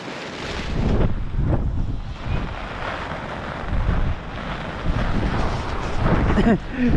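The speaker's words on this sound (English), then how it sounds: "this wind's come from nowhere" Strong wind gusts buffet the microphone at a big public lake in southwest France, a loud steady roar swelling and easing in waves with brief louder blasts throughout.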